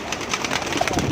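Pigeons cooing close by in Dinga, soft throaty coos in a brief burst with a voice talking over them.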